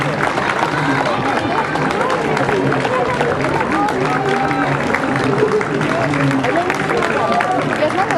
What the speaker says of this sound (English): Big crowd out here today.